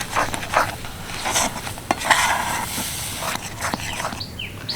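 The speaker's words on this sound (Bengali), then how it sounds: "এবার ভালো করে মিশিয়ে নেব" Palm fruit kheer is stirred in a pan, with a spoon scraping and sloshing through the thick mixture in irregular strokes over a faint sizzle, close and moderately loud.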